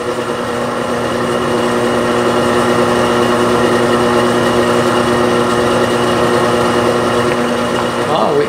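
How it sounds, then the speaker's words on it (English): A steady, loud motorized drone with a constant pitch and harmonic hum, running continuously as a power drill with a masonry bit strains against a quarter-inch piece of relatively soft metal. "try to make these cement drills drill some metal"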